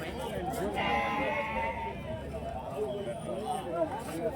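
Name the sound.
goats bleating at a goat market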